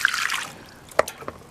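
Water soaking into bone-dry succulent soil, giving a few faint wet crackles and small bubbling pops, close up and brief, with no one talking.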